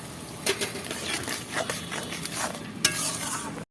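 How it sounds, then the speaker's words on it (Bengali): Fish curry with elephant foot yam stalks and green chilli paste being stirred in a pan, with close scraping spatula strokes over a bubbling sizzle and one sharp clack near the end, with no talking. "এবারে এটাও ঝোলে এইভাবে নাড়িয়ে নেব"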